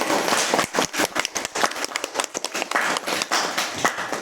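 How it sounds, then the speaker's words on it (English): A debate audience applauds the debaters with dense, continuous clapping that is moderately loud and crowded, with a few sharper claps standing out. "please give a big round of applause to our debate"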